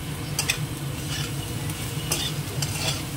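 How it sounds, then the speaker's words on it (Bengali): Pointed gourd, potato, onion and green chilli fry in a pan with salt and turmeric, giving a steady close sizzle broken by repeated scraping stirs and light utensil clicks. "পটল আলু পেঁয়াজ কাঁচা লঙ্কা দিয়ে ভাজা করব।"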